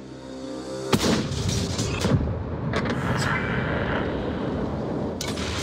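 Tank cannon fire in a tank video game: a sharp loud blast booms up close, followed by rumbling engine and battle noise with further impact crackles and a later shot.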